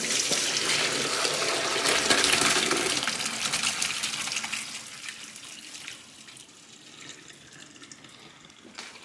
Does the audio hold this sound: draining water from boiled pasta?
yes